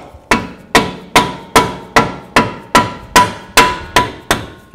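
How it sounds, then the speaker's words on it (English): A rubber hammer or dead blow taps a front control arm bushing into place on a 2007-16 GMC Acadia, about a dozen sharp, evenly spaced blows, close and loud, with no talking. "Make sure you use a rubber hammer"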